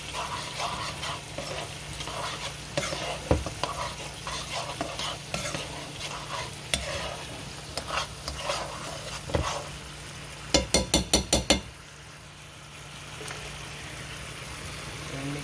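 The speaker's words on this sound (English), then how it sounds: "And mixing it all up." Sweet potato with honey is stirred and mixed in a sizzling pan, with repeated scraping strokes and clacks of a utensil, then a quick burst of rapid taps against the pan before the sound quiets to a soft simmer.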